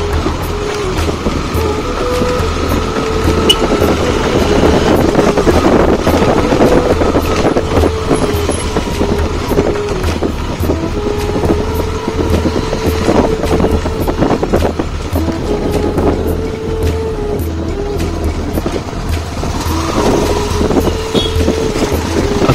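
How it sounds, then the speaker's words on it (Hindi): A Honda CB300F motorcycle hums steadily while riding in gear on a village road in Chamba, its engine drone mixed with constant wind buffeting the microphone. "अब आप बाइक की साउंड को सुने जब हम बाइक को गियर में चला रहे हैं।"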